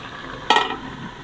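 A spoon stirs goose meat cooking in a pot, giving a single short scraping, sizzling burst that fades quickly against a quiet background.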